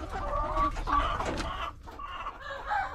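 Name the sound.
chickens clucking on a small farm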